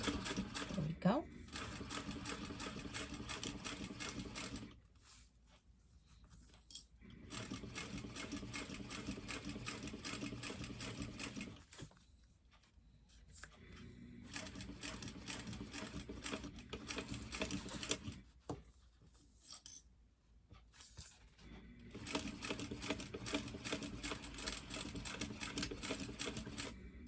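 A sewing machine stitches binding on a fabric poop bag holder with lining, a close, rapid mechanical whir in several runs split by short pauses, while a person talks through it.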